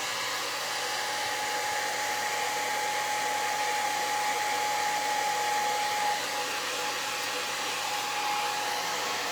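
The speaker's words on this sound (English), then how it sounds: "I'm gonna hit that with my dryer again." A hair dryer blows steadily and loudly throughout, drying a faux carved heart craft, a constant whirring roar with no talking.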